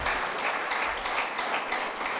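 A church congregation claps together in a quick, rhythmic pulse, a moderately loud wash of hands with regular accented beats throughout.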